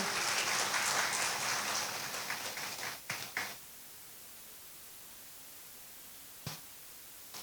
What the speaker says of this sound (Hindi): जोरदार एक बार तालियां हो जाए